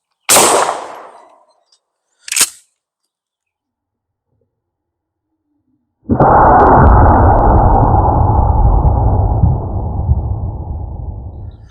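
A Mossberg 590 shotgun with a Streamlight TL-Racker flashlight on the forend: a sharp blast, a second shorter report a moment later, then a long pause before a loud sustained noisy rush fills the rest.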